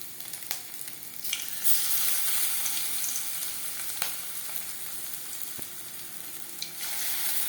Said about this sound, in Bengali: পাকোড়া ভাজবার জন্য বেশ খানিকটা রিফাইন্ড অয়েল গরম করে নিয়েছি